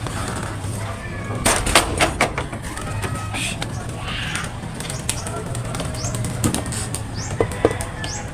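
Racing pigeons flapping their wings as they are let out of a small 3 ft by 3 ft flyers' loft, bursts of wingbeats over a steady low background hum, fairly close.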